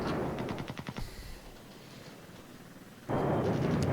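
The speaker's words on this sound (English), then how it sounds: "Ouch, more artillery." Artillery fire in the wargame Flashpoint Germany Reforged: a rapid burst of sharp impacts in the first second, then a quieter lull and a sudden loud, sustained rumbling barrage toward the end.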